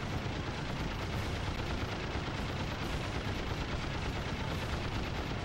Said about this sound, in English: At least the machine gun fire is pretty easy to jump over.